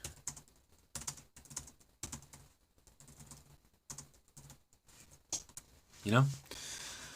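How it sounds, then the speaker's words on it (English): Quick bursts of clicking keystrokes on a computer keyboard as a chat message is typed, irregular clusters of taps close to the microphone, with someone talking over parts of it. "I'll type that. I'll type it."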